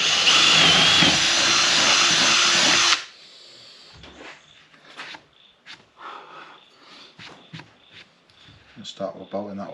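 A power drill boring a 6.5 mm hole during a caravan off-grid power build runs loud and steady for about three seconds, then stops, followed by quieter handling clatter and knocks.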